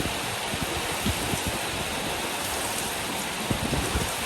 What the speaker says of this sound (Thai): นี่ก็ฝนแล้วก็ลมแรงด้วยค่ะ